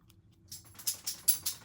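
Light metallic jingling comes in a few quick, rhythmic bursts, like tags on a collar, faint and fairly close, with no talking.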